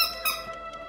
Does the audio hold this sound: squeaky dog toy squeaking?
yes